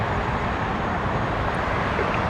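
A WestJet Boeing 737-800 departing from Toronto Pearson: a steady, broad jet engine roar that holds constant and loud throughout, with no breaks.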